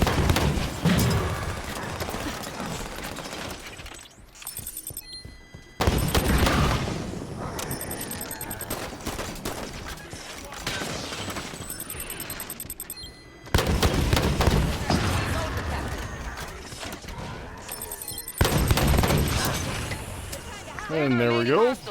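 Gunfire and booming weapon blasts in the shooter Halo 5: Guardians, loud bursts of fire and impacts that come in waves and drop out briefly between firefights, with game music and effects layered underneath.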